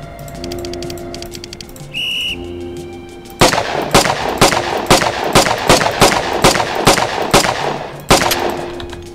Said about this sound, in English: now switch to the pistol. So we'll do 9mm